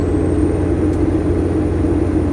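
Car engine labouring up a hill with a steady, loud low rumble throughout; no distinct gear change stands out.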